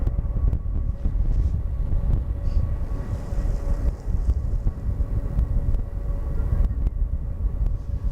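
A Boeing 747 airliner at Schiphol Airport in gusty weather, a deep, continuous jet rumble with a faint whine, distant and buffeted by wind on the microphone.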